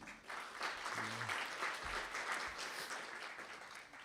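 Applause for a speaker at a seminar on trilateral trade cooperation among Korea and neighbouring countries, a steady, moderately distant clapping from a modest audience that lasts around four seconds with no talk over it.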